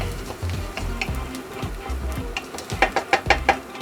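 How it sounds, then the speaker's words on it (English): Garlic is stirred into onions frying in a pan, giving a soft sizzle with scraping stir strokes that turn into a quick series of taps near the end, close and fairly quiet. "We'll add our garlic. Give that a little stir."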